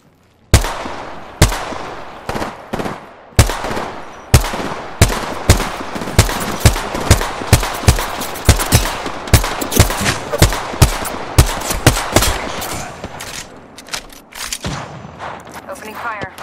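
Rapid video game gunfire rings out as loud, close bursts of sharp shots in uneven rhythm, dozens of cracks echoing one after another with brief pauses, then thinning toward the end; a voice speaks faintly among the shots.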